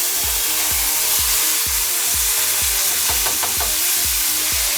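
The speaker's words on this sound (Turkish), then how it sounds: "Pilavımızı güzelce 1-2 dakika kavuralım." Drained rice is toasted for pilaf in a pan with browned ingredients, producing a loud, constant sizzle with rhythmic scraping strokes of the spoon about twice per second.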